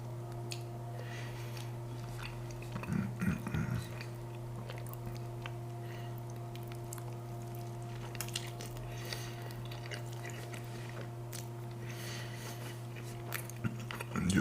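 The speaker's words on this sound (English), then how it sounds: "Let me just have a spoonful of beans." Close, quiet chewing of a spoonful of beans at a Mexican breakfast, soft wet squishy mouth sounds over a steady background hum, with no talking.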